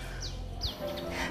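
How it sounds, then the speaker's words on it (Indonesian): Birds chirp in the leafy side garden of a Bali resort-style house in BSD, a few short faint high calls over a quiet, low background hum. "coba denger deh, ada banyak banget nih suara burung"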